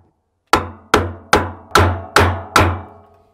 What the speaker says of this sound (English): If it won't come loose by hammering on the block of wood